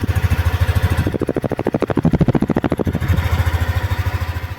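A stock-muffler Yamaha Aerox 155 scooter idles up close, its steady low putter briefly rising to a slightly faster, buzzier throb in the middle before settling back to idle.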